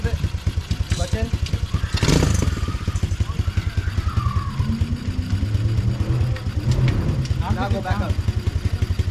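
A Misa LS400 pit bike idles with a rapid, rough mid-pitched putter, dipping briefly as it is blipped, while people nearby talk and coach a first-time rider over the engine.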